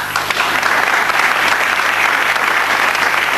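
A studio audience at a Pakistani TV comedy show bursts into loud, sustained applause, dense clapping filling the room close-up without a break.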